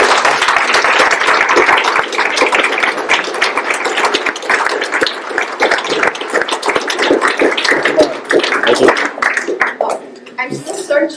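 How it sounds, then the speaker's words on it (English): A reunion crowd gives a loud round of applause for John and Alice, dense clapping that carries on for several seconds, then thins into scattered claps with voices mixed in. "could we give John and Alice a round of applause"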